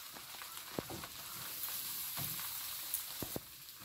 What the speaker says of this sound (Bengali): আলুটা নাড়ে চেড়ে বেশ ভালো করে ভেজে নিচ্ছি, অনেকক্ষণ ধরে কিন্তু ভাজি